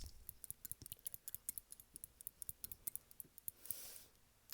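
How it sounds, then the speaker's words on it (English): Small scissors snip rapidly and repeatedly in a close, quiet ASMR setting, a crisp run of sharp metallic clicks in an uneven rhythm, ending with a soft brushing rustle. "let me just cut your nails because they're honestly kind of gross and dirty. Snip, snip, snip, snip."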